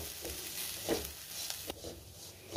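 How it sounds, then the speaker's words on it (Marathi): Green chilli chutney with coriander is stirred and fried in a pan, giving a faint steady sizzle with a few soft scraping stirs and no talk. "आता आपल्याला त्यामध्ये कोथिंबीर घालायची आहे आणि पुन्हा सगळं व्यवस्थित मिक्स करून घ्यायचंय."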